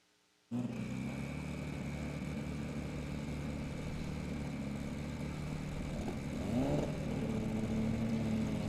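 A black Honda Civic drag racing car idles with a loud, steady engine rumble at an import versus domestic drag strip, a brief rev rising near the end before settling back.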